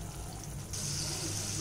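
Egg masala gravy left uncovered in a pan to boil, a soft, faint simmering bubble and hiss that brightens slightly partway through, quiet and continuous.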